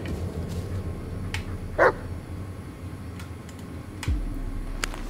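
A dog in the Blair Witch video game gives a single short, loud bark partway through, set against a steady low game ambience with faint clicks.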